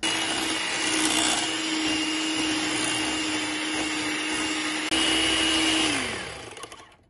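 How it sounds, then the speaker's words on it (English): Electric mixer whisking butter and sugar into buttercream for a lemon poppy seed cake, a loud steady motor whine held close for several seconds, then winding down as it switches off, with no talk. "So let's just whisk it for 3 to 4 minutes."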